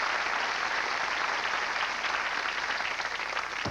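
Studio audience applause on a television talk show, a dense, steady wash of many hands clapping that fills the clip without a pause.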